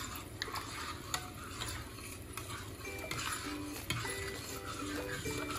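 A chili vegetable mixture for Vidarbha-style mirchi bhaji being stirred in a pan: a steady, faint scraping and soft sizzle runs throughout, with occasional light clinks of the utensil against the pan.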